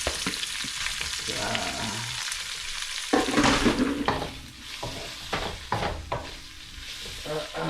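Shrimp sizzle and fry in a pan, with a constant crackling hiss broken by stirring scrapes and clatters. A brief word is spoken.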